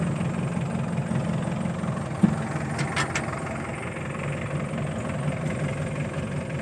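A car engine drones steadily and evenly throughout a ride, a low constant hum with faint vibration and no talking.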